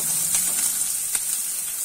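Onions frying in a pan until light brown for a Punjabi-style malai paneer bhurji, giving a steady close sizzle and hiss throughout with one brief sharper crackle midway and no talking.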